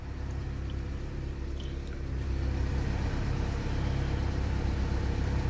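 A 2009 Volkswagen Passat 2.0 diesel idles quietly, a low, even rumble that steps up slightly in level partway through and holds steady, with no talking over it.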